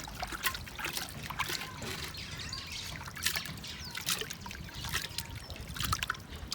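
Water from a small, still, stagnant stream in a rural Kenyan village trickles and sloshes continuously as it is scooped up, with light splashes and faint birds in the background.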